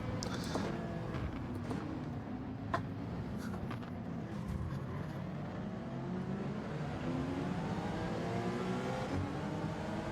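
Several race cars of mixed classes circle a track in the Gran Turismo 7 racing game, their engines droning and whining together at a steady level with rising pitch sweeps as they accelerate, with no one talking.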